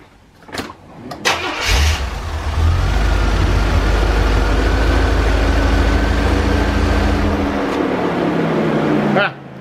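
A 1984 Chevrolet Corvette C4 with a gutted catalytic converter cranks, catches and settles into a loud, steady cold idle close by, with brief clicks at the start and end.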